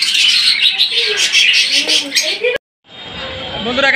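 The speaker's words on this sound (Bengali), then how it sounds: "এখানে দেখতে পাচ্ছেন বেশ কিছু পাখি রয়েছে, লাভবার্ড এবং বার্জিগার, এখানে কোকাটাল পাখি রয়েছে।" Caged lovebirds, budgerigars and cockatiels chirp in a dense, continuous twittering at the Tongi bird market, close and loud, with people talking over them before a brief break.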